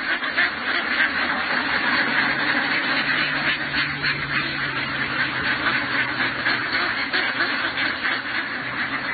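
A flock of egg-laying ducks in a flooded rice paddy quacks continuously in a busy, overlapping chorus at moderate distance, with no talking.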